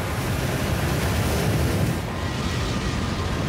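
Rumbling ocean surf and rushing wind stand in for tsunami waves spreading from an asteroid impact in the Gulf of Mexico, a steady loud roar with a slight drop about halfway through, no voices.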